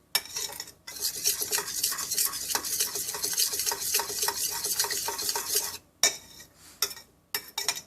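Vegan lentil sloppy joe mixture is stirred and scraped around a pot, with steady close wet scraping and clinking of a utensil against the sides, broken by a few short pauses near the end.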